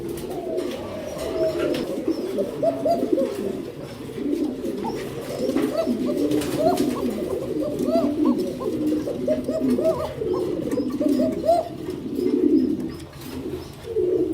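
Fancy pigeons at a pigeon farm coo steadily and overlap in a dense chorus of low, rolling calls, with occasional faint chirps above.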